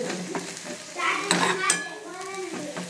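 Spices tempering in hot oil in a home kitchen pan, a steady close sizzle with scraping stirs and clinks of a spoon against the pan throughout.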